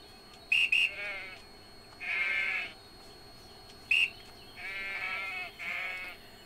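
Sheep in the video game EverDream Valley bleat several times in short bursts, a pair of quick calls followed by longer wavering bleats, fairly faint against a quiet background.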